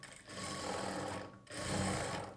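Sewing machine stitching a second line over the sleeve and shoulder seam of a blouse, running steadily up close for two stretches with a short pause between them and no talking.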